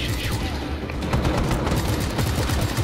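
Gunfire in Just Cause 3, a dense, continuous crackle of rapid shots and blasts, loud and close with no gaps, with a voice shouting over it.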